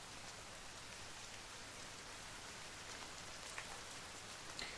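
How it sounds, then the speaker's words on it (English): Steady rain patters down in the survival game The Forest, a soft, even hiss of drops on the ground with a couple of faint sharper taps, quiet and continuous with no voices. "but it's raining"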